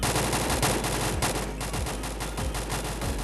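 Shotgun blasts in a video game firing at bots, a rapid run of sharp, loud reports repeating close together with no talk.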